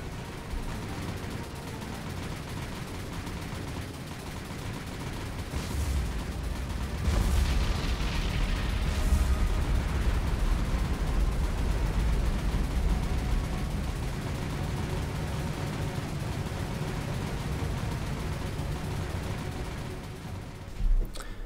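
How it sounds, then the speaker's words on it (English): Ship magazine explosion in the naval combat game War on the Sea: a low rumbling blast swells after several seconds and lingers as a long, muffled roar with scattered distant booms, fading near the end. "There you go, magazine explosion"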